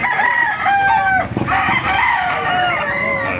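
Roosters at a rainy open-air market crow loudly and repeatedly, overlapping with clucking fowl and a busy background din.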